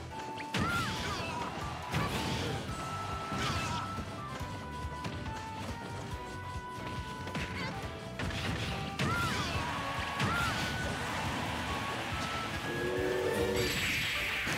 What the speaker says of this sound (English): Oh my goodness, he got hit by the train.